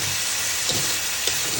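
Green chillies sizzle in a hot pan, a steady close hiss with faint crackles and a couple of small pops, alone without talk.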